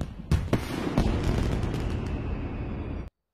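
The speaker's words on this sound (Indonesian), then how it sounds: "Pas keluar, banyak sekali kembang api." Loud anime fireworks burst in a dense, continuous crackling barrage, with sharp booming cracks rising above a steady roar before it cuts off suddenly.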